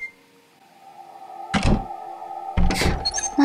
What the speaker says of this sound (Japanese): ドアが開いた。